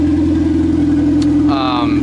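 Boosted Toyota Tercel engine running on a straight downpipe with no full exhaust, a steady loud low drone with a brief turbo-like whistle near the end.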